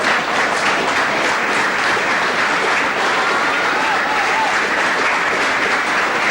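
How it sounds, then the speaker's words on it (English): Steady, dense crowd applause fills a rugby league ground as Lancashire Lynx host Leigh in 2000, with an injured, limping Phil Kendrick substituted off. Clapping holds at an even level throughout without fading. "A round of applause for Phil Kendrick."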